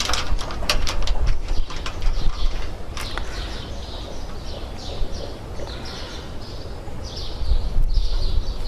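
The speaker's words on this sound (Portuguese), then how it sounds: "E vou fixar aqui o quarto parafuso." A ratchet tightens a mounting screw on a residential solar panel outdoors, with a few quick, close clicking bursts early on, then birds chirping in the background.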